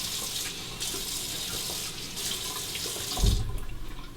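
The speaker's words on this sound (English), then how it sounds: "I'll splash a little water on" Water runs from a bathroom tap into a sink and is splashed onto the face during shaving prep, a steady hiss broken by a couple of brief pauses and a louder splash near the end.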